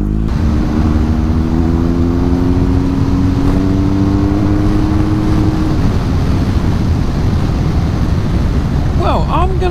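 A BMW R1250GS motorcycle engine pulls hard out of twisty bends, its loud steady drone rising in pitch as it accelerates, close and continuous for nearly ten seconds with wind roar throughout.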